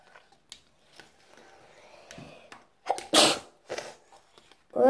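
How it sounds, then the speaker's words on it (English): A single sharp sneeze bursts out near the close, loud and close, following soft scattered bumps and a brief lead-in breath; no talking. "I sneeze so much."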